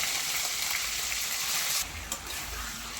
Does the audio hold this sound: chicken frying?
yes